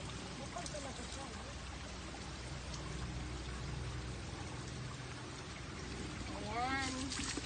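Cold mountain spring water pours steadily from a pipe in a continuous close, splashing stream, with voices talking over it and a brief louder gush near the end.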